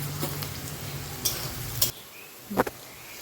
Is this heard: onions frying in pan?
yes